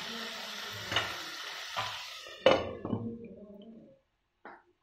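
Mutton pieces frying in a pan for mutton sukka, a moderate sizzle broken by a few clattering stirs and scrapes that fades out toward the end, followed by a brief final scrape.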